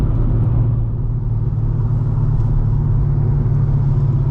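A loud cammed C5 Corvette engine rumbles in a deep, steady, throbbing drone, heard close and unbroken for a few seconds.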